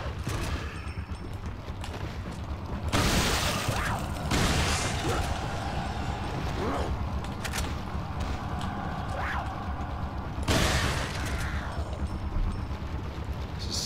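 Two or three loud, separate shotgun blasts boom out in the Resident Evil 4 video game over a steady background of game noise and clatter, with no talking.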